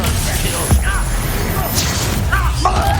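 A Confringo fire spell blast in Hogwarts Legacy, a couple of sharp booming bursts over loud battle noise, with voices calling out in the middle of the fight.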